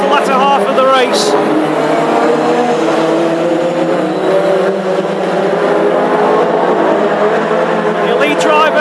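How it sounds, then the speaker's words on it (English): Classic hot rod race cars racing in a heat at Northampton, engines roaring loudly and continuously as cars pass, with a commentator talking over the track noise throughout. "under pressure now from Andy Stewart as we move towards the latter half of the race."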